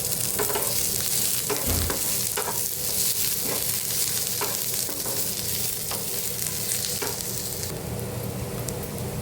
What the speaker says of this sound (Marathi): चांगलासा गुलाबी रंगावर येईपर्यंत कांदा भाजून घ्यायचा आहे त्याच्यामध्येच मी लसूण आणि आलं हे पण भाजून घेणार आहे